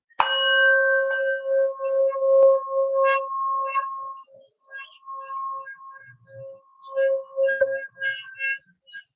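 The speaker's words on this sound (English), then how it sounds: "just breathe in when I tap the bell here" A bell is struck once and rings out with a bright, sustained tone that slowly fades, followed by a few softer chimes and light tinkling.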